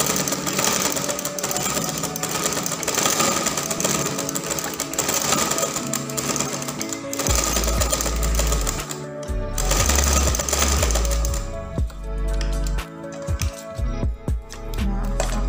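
Butterfly sewing machine stitching in reverse with the presser foot lever raised, a steady close mechanical whirr and clatter that runs continuously, then breaks into shorter bursts of stitching with brief pauses.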